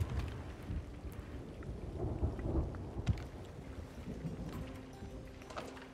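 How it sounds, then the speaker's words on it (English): A storm in the video game Sea of Thieves rolls around a ship, with low rumbling thunder swells, steady rain and creaking wood and water noise at a moderate level, with no speech. "Oh, we're actually moving to the eye of the storm."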